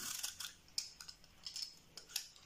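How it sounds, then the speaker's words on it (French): Apples being peeled by hand for an endive and apple salad, heard as short, faint scraping and snipping strokes in an irregular rhythm, close up and quiet, with no voices. "Je vais maintenant éplucher les pommes"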